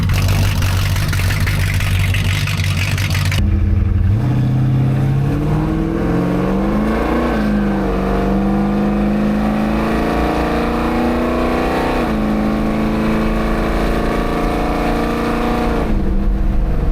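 Car engine fitted with a NASCAR-style boom tube exhaust, loud and close: a rough rumbling idle, then a sustained rise as it revs up and holds a raspy, droning high idle, no talking over it.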